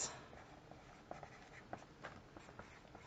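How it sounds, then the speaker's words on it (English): A pen writes a date on a cardboard box, close and quiet, with short scratchy strokes and small taps in an uneven rhythm over a soft hiss. "So I'm just going to write on here"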